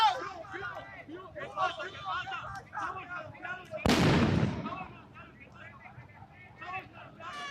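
Homemade explosive bursting in a Cali street riot by hooded Universidad del Valle students, one sharp loud blast with a decaying rumble, heard under a news narrator's continuous speech.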